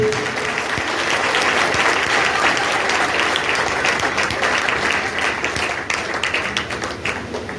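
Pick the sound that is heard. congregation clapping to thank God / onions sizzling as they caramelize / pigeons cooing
congregation clapping to thank God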